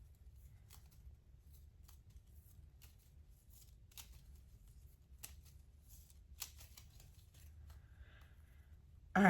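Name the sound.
shuffling playing cards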